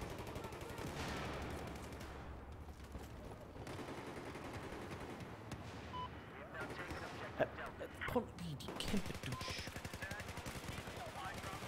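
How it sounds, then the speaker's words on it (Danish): An AK-12 machine gun fires in Battlefield 4 multiplayer in quick bursts of gunfire amid battle noise, with someone talking over it through much of the stretch. "Det går faktisk rimelig godt med det her maskinegevær her, AK-12"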